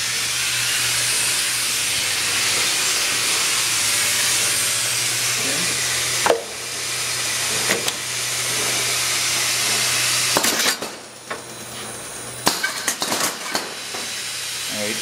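Constant loud hiss and low hum from an O-ring gasket processing machine running in a factory, broken by several sharp mechanical clacks and thumps toward the end.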